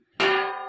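A metal lid set down on a cooking pot of chili soya, giving one sharp clang that rings on and slowly fades.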